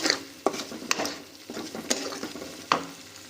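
Spice paste for ridge gourd kofta fries in oil with a continuous sizzle, broken by several sharp scrapes and knocks of a spoon stirring against the pan, close and fairly loud.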